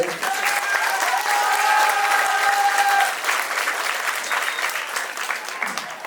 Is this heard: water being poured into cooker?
no